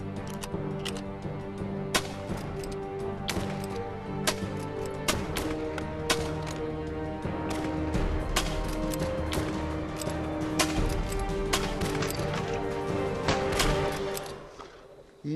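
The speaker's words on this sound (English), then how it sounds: "16 shots in quick succession is going to be a technological marvel" Repeating rifles firing in rapid succession, sharp cracks popping irregularly over a steady low background bed of music and rumble, some shots louder and closer than others.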